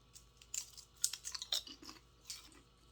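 Someone crunching dill pickle chips close up, with a string of sharp, crisp bites and chewing crackles at an irregular pace.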